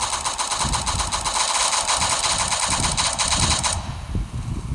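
Rapid automatic gunfire rattles in a fast, continuous burst during a video game, loud and close, then cuts off near the end with no talking.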